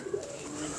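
A pigeon coos softly while being held and handled, a low brief murmur set against steady faint background hiss.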